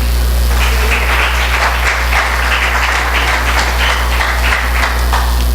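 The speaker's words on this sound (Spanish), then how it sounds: "¿qué tal si le damos un aplauso al Señor?" A church congregation applauds together after a Bible study question-and-answer session, a dense, loud and steady wash of clapping that lasts throughout without pause.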